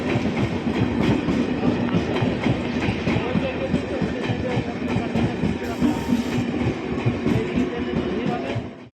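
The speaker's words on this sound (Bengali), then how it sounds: "1 নম্বর প্ল্যাটফর্মে ট্রেন ঢুকে গিয়েছে, আর আমাদের ট্রেনটা কিন্তু আসছে। আজকে একসাথে দুটো ট্রেন ঢুকেছে।" A train rolls into a busy railway station platform on a hot day, its steady rumble and wheel clatter loud and continuous throughout, with faint station chatter beneath.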